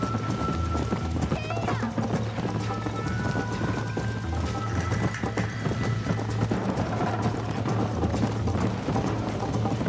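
Horse hooves clip-clop at a gallop in the Red Dead Redemption video game, a steady drumming rhythm under constant game music and sound effects throughout, with a voice talking over it.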